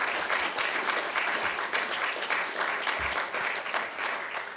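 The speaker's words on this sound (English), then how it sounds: "He's in England, so you have to clap really loud for him to hear you" Audience at a defence media awards ceremony clapping loudly and steadily for a lifetime achievement winner, a dense sustained round of applause filling the whole stretch.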